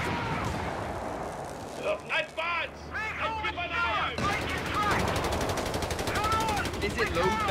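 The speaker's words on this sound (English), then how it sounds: "Bloody machine gun!" Machine gun fire from Company of Heroes 3, rapid bursts of gunfire and explosions under urgent shouted voices and in-game radio chatter.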